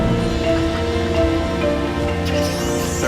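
Relentless rain pours over a mountain forest in China, a dense steady hiss of drops on leaves and surfaces that stays loud and even throughout, with no voices.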